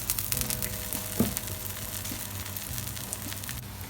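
Finger millet dosa batter sizzles in sesame oil on a hot pan, a steady close frying hiss with occasional soft crackles and a light tap, no voices.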